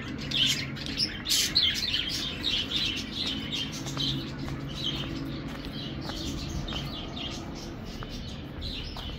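Budgerigars kept in a cage at a city park in Narayanganj chirp and squawk in quick overlapping bursts, loudest in the first few seconds, then thinning to scattered calls over a low ambient rumble.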